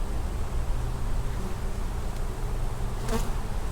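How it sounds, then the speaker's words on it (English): Dense, continuous buzzing of many honey bees close by, a loud, steady drone with a brief louder swell near the end. "show him a few things about the bees"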